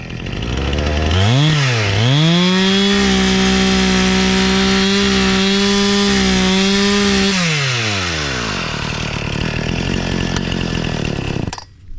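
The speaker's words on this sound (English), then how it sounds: "take the chainsaw and go like right across, make a nice even flat surface with the chainsaw" Chainsaw cutting across wood to make a flat decking surface, the engine revving up sharply, holding a loud high whine through the cut, then dropping back to idle.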